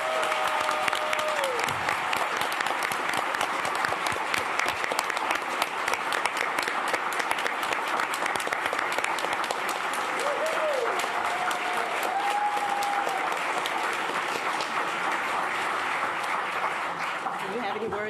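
Sustained audience applause at a city council meeting, dense clapping continuing loudly for a long stretch, with occasional voices and whoops rising over the crowd.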